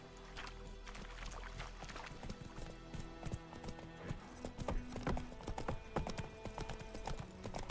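Horse hooves clip-clop in a steady walking rhythm in The Witcher 3: Wild Hunt, fairly close and continuous, with faint tack rattle and no talk over the hoofbeats.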